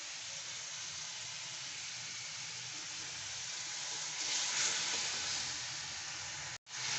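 Chicken stir-fries with salt in a pan, a steady hissing sizzle that swells briefly before cutting out near the end.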